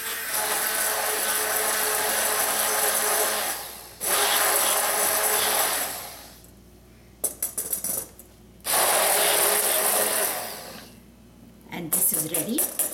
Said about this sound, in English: And we'll whisk it together.